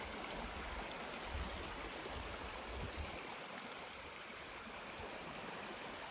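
Water running after rain in West Texas, a steady broadband rush like a nearby stream or runoff that continues evenly throughout with no voices.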